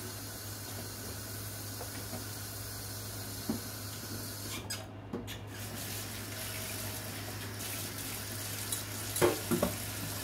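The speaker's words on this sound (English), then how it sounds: "rinse it off real good" Lettuce from a food bank haul rinsed under a running kitchen tap, a steady broadband hiss of flowing water with a low hum beneath and a few soft splashes and taps near the end.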